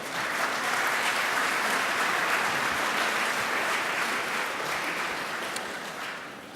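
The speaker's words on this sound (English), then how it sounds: "And I think that's worth applauding" A hall audience at a hairdressing fellowship presidents' night gives sustained applause, a dense steady wash of clapping held at full strength for several seconds before easing slightly toward the end.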